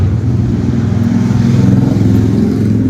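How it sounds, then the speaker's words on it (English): Loud motorcycle engine droning close by, a continuous low rumble with a steady throb that holds for the whole stretch, slightly swelling midway, with no voices over it. "Loud motorcycle."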